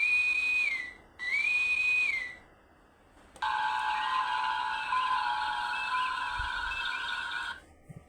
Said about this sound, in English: so that's the bridge sounds